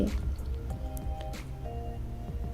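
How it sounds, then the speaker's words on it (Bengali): Powdered milk dissolved in water is poured into a pot of chicken biryani, giving quiet wet splashes and squishy liquid sounds with a few drips, heard close up. "সেই পানিতে 3 টেবিল চামচ পরিমাণ পাউডার দুধ গুলে নিয়েছি, সেটা এখন দিয়ে দিচ্ছি"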